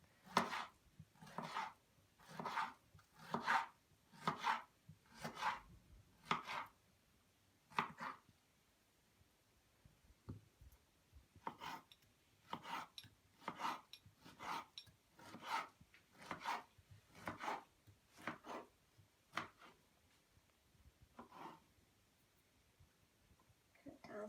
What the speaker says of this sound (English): Just going to cut slices from the really long bits.